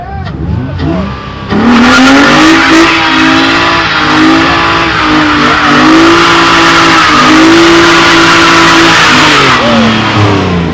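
A Mopar car doing a two-step burnout: after a brief rough idle, the engine bursts into a loud, close, sustained rev with wavering pitch, mixed with hissing tire spin, holding for several seconds before easing off.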